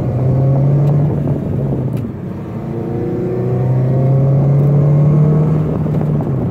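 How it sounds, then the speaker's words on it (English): A 2006 Honda Civic Si engine rises in pitch as it accelerates, drops briefly at a gear shift, then climbs again, a loud, close engine drone heard from inside the car. "See if I can do a little better job shifting this time."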